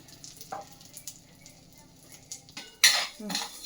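Moong dal dry-roasts in a pan with soft scraping and stirring. A faint sizzle sits under occasional clinks, then a sharper metallic scrape and clatter come near the end.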